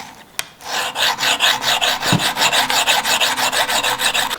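An axe edge is drawn repeatedly against a sharpening file or stone, giving a steady rhythm of loud, close rasping strokes, about five per second, after a single sharp tick at the start.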